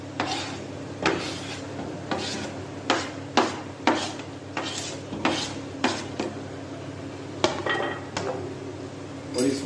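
A spoon stirs onions in oil in a pot for chicken biryani, scraping against the metal in a steady rhythm of repeated strokes over a low sizzle, close and clear, with no talking.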